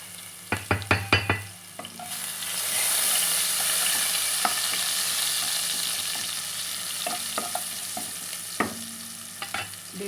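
Crushed garlic cloves, four or five, dropped into hot oil in a pan for tomato rasam, with a few sharp clatters first and then a steady, loud sizzle and crackle, no voices.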